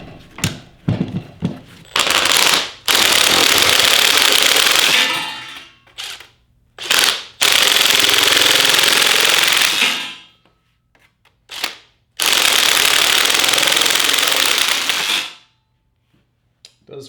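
A DeWalt shear attachment driven by a Makita drill cuts 22 gauge sheet metal in loud, sustained bursts of harsh grinding and snipping, three long runs separated by short pauses and brief clicks.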